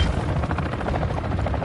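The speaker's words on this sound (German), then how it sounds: "Ein Frachtheli hat den Luftraum erreicht." A cargo helicopter arrives in the Call of Duty video game, a steady, loud rotor thump with a pulsing chop that holds throughout without voices.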